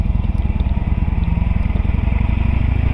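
A small cruiser motorcycle engine rumbles steadily while riding, a loud, continuous low throb with rapid pulsing and wind noise.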